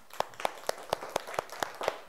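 Fifth-grade schoolchildren in a classroom clap together for a classmate: sharp, evenly spaced claps in unison, about four per second, moderately faint with quiet room tone between beats.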